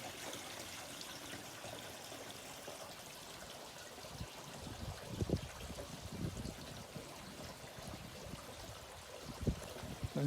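Water trickling and flowing through a homemade three-barrel koi pond filter, a faint, continuous stream with a few splashy surges.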